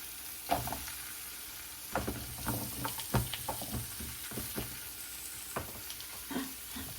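Pork adobo with carrots frying in a pan, steady sizzle with scattered clinks and stirring scrapes as carrots go in, close and fairly quiet, no talking.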